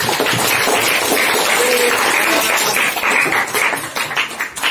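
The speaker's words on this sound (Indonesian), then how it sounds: "tepuk tangan." Students in a classroom applaud during a social studies lesson, a loud, dense and sustained patter of many hands clapping that eases slightly near the end.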